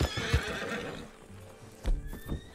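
A horse whinnies loudly near the start in Red Dead Redemption 2, followed by hoof clip-clops and a second snort, with a faint rising electronic tone in the background.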